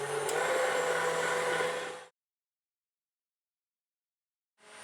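An electric mixer runs at maximum speed, beating eggs for an almond cake batter: a loud, steady whirring drone for about two seconds that stops abruptly, then starts up again near the end.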